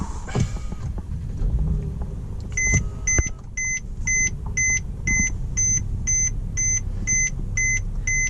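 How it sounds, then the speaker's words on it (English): Steady electronic beeping repeats in an even rhythm, a Mercedes-Benz E350 4Matic's warning chime sounding over a low engine idle. "It does have that irritating beeping noise."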